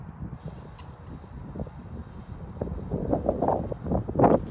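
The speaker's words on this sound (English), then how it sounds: "Nice gust of wind, everybody." A gust of wind buffets an outdoor microphone at a rocket launch, a steady low rumble that swells and roughens toward the end, loud and close with no talk.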